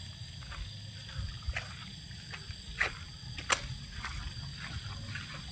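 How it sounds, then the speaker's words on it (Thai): Frogs croak at night in rural Thai countryside, with a steady chorus of insects buzzing and scattered faint croaks and clicks over a low outdoor rumble. "ได้ยินแต่เสียงเขียด"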